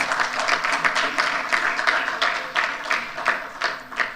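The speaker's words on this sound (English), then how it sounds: "another resounding round of applause for our debaters" Steady applause from a crowd at an engineers' debate, a dense patter of many hands clapping continuously at moderate volume.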